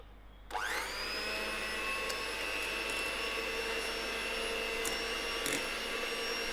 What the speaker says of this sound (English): Now I'm going to beat my eggs and sugar together.